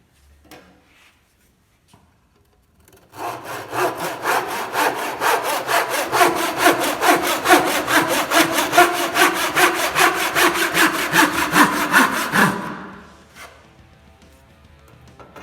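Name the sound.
sawing wood with a back saw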